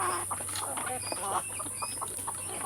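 Free-range desi chickens on a farm cluck and chatter while feeding, several birds calling in short overlapping bursts over a constant background hum.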